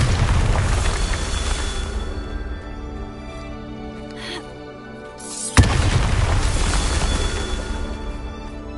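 Bombarda explosion spell in a Hogwarts video game, a dense roaring blast sustained under game noise, dipping briefly before a sharp crack and a second loud burst.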